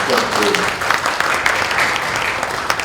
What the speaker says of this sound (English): Please give the speakers the big round of applause.